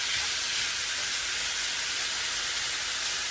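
Onions and meat fry in a pan with a continuous, even sizzling hiss, close and steady with no pauses.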